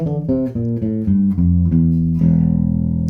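A bass guitar plays the Locrian mode scale note by note, stepping upward through the flattened seventh to the octave, which rings out longer at the end, loud and close with no talking.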